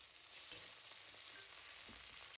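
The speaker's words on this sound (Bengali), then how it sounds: "টমেটো কুচি দিয়ে পেঁয়াজের সাথে টমেটোটাকেও খুব হালকা করে এক মিনিট মিডিয়াম ফ্লেমে একটু নরম করে নেব" Onion and chopped tomato fry over a medium flame in a pan, giving a soft, steady sizzle that stays faint throughout with no voices.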